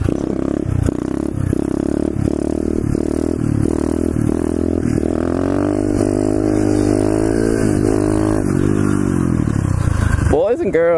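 A pit bike engine runs loud and close, buzzing and revving repeatedly with pulsing rises and falls, then cutting off abruptly near the end with a clattering noise.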